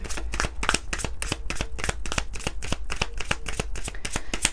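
Oracle cards are shuffled close up in a steady run of crisp riffling slaps, repeating rhythmically for several seconds over a low background hum, with no talking.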